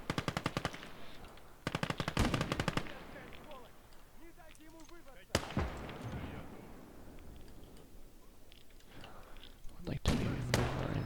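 Machine gun fire in the Conquest Enhanced strategy game comes in several loud, rapid bursts, with scattered single shots, distant battle noise and a voice talking between the volleys.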